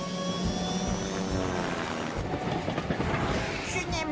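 A cartoon aircraft takes off with a loud, steady engine roar that fills the scene, a droning tone building slightly toward the end, heard up close with no voices.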